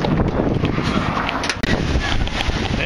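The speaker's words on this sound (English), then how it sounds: "You can see it's kind of breezy." Breezy outdoor wind buffeting the microphone, a steady loud rushing roar lasting the whole time, with a brief dip midway.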